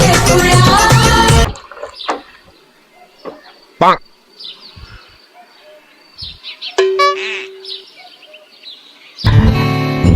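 Small chirps from yellow sparrows in a village come through as sparse, brief calls and flutters against a quiet background. Loud bursts of music frame them at the start and end.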